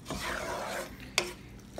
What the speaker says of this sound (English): I have the 2 whole eggs that I have whipped together, and we are going to stir it into this mixture